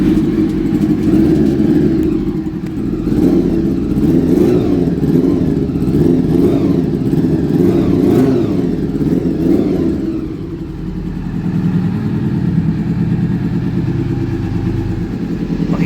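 A car or motorcycle engine warms up inside a garage, its steady mid-pitched drone revving loudly and continuously before settling to a lower idle for the last few seconds, with no talk over it.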